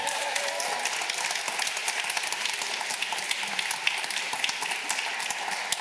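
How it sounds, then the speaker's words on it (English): Sustained applause from an audience at a Cambridge Union talk, a dense, steady wash of many hands clapping that continues evenly throughout, with no voices standing out. "Go ahead, clap it up for that"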